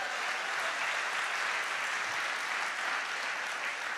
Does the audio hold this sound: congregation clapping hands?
yes